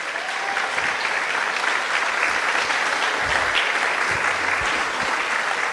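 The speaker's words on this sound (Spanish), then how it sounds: "vamos a darle un aplauso a nuestro Rey" Sustained applause from a large church congregation, loud and steady throughout, with a dense wash of clapping and no break.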